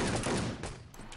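Pistol gunfire from the Enemy Territory shooter, heard as a dense, loud burst of sharp cracks running through the whole short moment, close and forceful with no talk.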